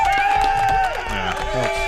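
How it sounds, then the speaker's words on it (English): An audience cheers and claps for a birthday boy, a busy mix of whoops, shouts and scattered applause close by, with voices rising and falling throughout. "Let's give a round of applause Yay. for the birthday boy."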